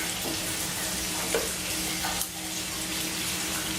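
Bacon frying on a small one-burner hot plate, a dense, steady crackling sizzle close by throughout with a couple of faint clicks and no talking.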